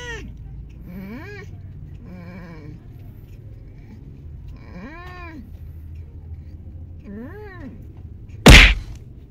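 A sick pet cat, recovering after poisoning and a bite from a male cat, lets out several drawn-out, wavering meows at close range, followed by a sudden loud thump near the end.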